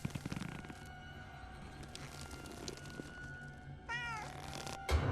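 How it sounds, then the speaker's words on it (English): A cat meows in a Junji Ito survival horror game, a short, clear, wavering cry near the end amid low eerie ambience and faint scattered noises. "Don't meow at me."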